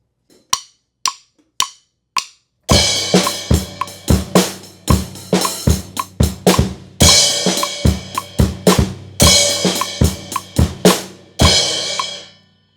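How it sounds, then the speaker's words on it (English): A drummer plays the four-measure intro beat of a song, opening with a few sparse isolated hits before a full kit groove of loud, steady snare and cymbal strikes drives on close and alone. "drummer leads in with the intro beat that's about 4 measures long"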